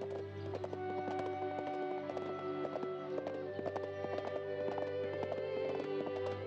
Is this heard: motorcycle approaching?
no